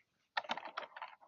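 Quick burst of typing on a computer keyboard, a short run of close, crisp key clicks that starts after a brief silence and carries on unevenly for about a second.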